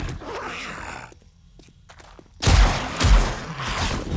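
Gunfire in 7 Days to Die with the Darkness Falls mod at a wasteland military camp: after a quiet stretch, loud bursts of shots hit around the halfway point and again about a second later, with a noisy, rumbling tail.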